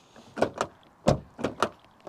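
Door mechanisms on a new Ford Focus Hybrid 1.0 EcoBoost automatic are worked several times, giving a series of close, sharp clunks and latch clicks in uneven pairs with short quiet gaps between.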